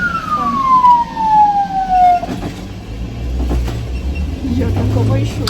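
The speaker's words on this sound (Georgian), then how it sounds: "ალექსანდრუშკას გამოუძახეს სასწრაფო." An ambulance siren wails in a loud, falling sweep for about two seconds before cutting off. Road rumble and people talking follow.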